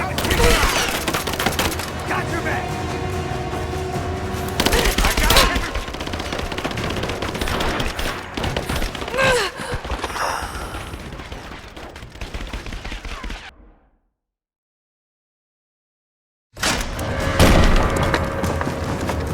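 Rapid automatic gunfire bursts and single shots from a Rise of the Tomb Raider firefight, loud and repeated with brief pauses and a stretch of silence partway through, while soldier voices shout over the shooting.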